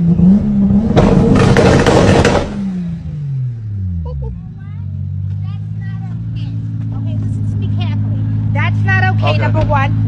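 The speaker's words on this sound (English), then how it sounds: "Karen yells at this driver for revving his car engine." A car engine revs hard in a loud burst, then drops and settles into a low idling rumble while people talk nearby.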